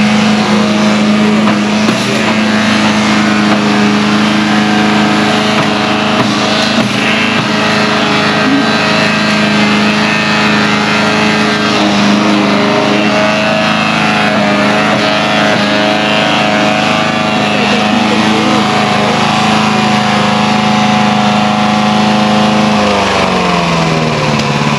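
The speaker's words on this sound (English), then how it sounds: "My husband put together the new chipper" A newly assembled wood chipper runs outdoors with a loud, steady motor drone that holds for a long stretch and then shifts near the end.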